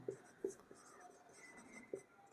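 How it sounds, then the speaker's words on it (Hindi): Chalk writing on a classroom board for a maths lesson, a few short sharp taps and scratchy strokes, quiet and close, with no talking. "इससे ऊपर मैं सिक्का और लिखे देता हूं"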